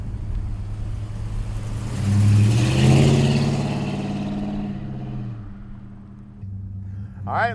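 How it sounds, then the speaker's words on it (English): A 1970 Plymouth Roadrunner hot rod engine revs up loudly and close by, swelling to a peak before settling back into a rough, throaty idle, with no talking. "let's take the Roadrunner for a ride"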